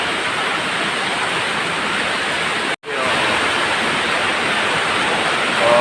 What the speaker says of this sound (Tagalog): Maagos yung tubig, diba? Galing doon sa ulan.